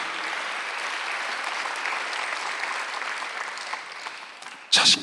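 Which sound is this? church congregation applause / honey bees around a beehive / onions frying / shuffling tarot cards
church congregation applause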